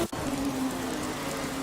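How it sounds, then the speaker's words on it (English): Rain pours down on a wet track in the Assetto Corsa racing game during a Formula 2 race in Spain, a steady hiss over a low engine hum after a brief cut at the start. "You can see the rain is still pouring down"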